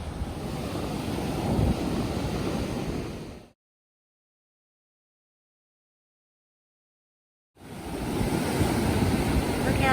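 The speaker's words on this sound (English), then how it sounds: "Look how these waves are forming." Ocean surf rolling onto Argosy Beach in Ormond By The Sea with wind buffeting the microphone, a steady wash of breaking waves that cuts out entirely in the middle before returning.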